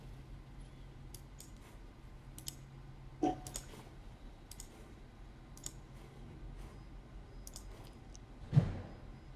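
A computer mouse gives a few scattered, faint clicks over a quiet room hum, with one louder thump near the end and no speech.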